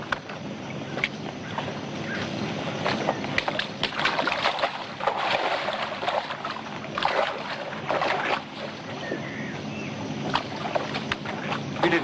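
A boat dragged across a river, with water sloshing and scraping, hollow knocks against the hull and gusts of wind, continuous and fairly close with no talking.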